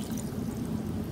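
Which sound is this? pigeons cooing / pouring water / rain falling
pouring water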